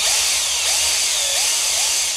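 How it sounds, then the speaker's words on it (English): Power drill with a 2mm bit widening pickup screw holes in a Telecaster guitar body, a steady close whirring whine that holds for the whole stretch with small pitch dips, no talking. "I've got a 2mm bit. I'm just going to widen them out a bit"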